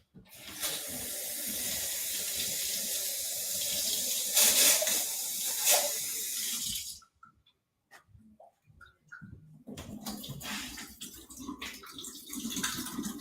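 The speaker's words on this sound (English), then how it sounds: "dumping out water from this can" Water pours out of an old soda can into a sink, a steady splashing stream for several seconds, then a pause with small drips before the pouring resumes more unevenly.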